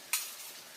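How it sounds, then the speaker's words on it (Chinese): An egg frying in a pan at a windy outdoor campsite gives a sudden hissing sizzle that starts sharply, then settles into a steady, fairly close crackle. "煎了个鸡蛋。"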